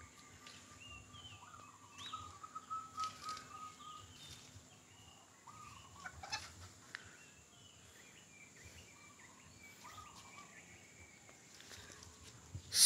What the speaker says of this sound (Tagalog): So, yung mga ibon, manok, yan. Yun ang alaga namin.